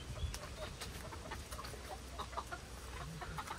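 Chickens in a spacious backyard coop on a rural family homestead give soft, scattered clucks, faint and somewhat distant, over a low steady background with no talking.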